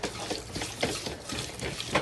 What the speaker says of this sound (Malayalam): ഇനി ഇതിലോട്ട് ഒരു 1/4 കപ്പ് വെള്ളം ആഡ് ചെയ്ത് കൊടുത്താൽ മതിയാവും